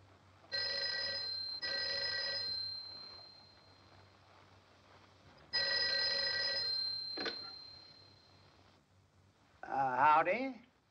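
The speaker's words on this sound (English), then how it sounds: "Answer the phone, Paul." A telephone bell rings in two long bursts with a pause between, fairly close indoors, followed by a brief voice.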